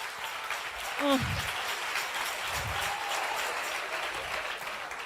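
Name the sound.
church audience applause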